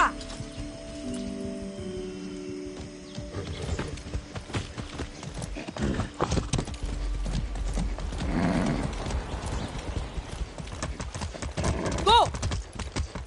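Hooves clip-clop as a horse is ridden in Far Cry 6, running through a cluttered mix of game effects, rustling and a brief whinny, with voices talking at times.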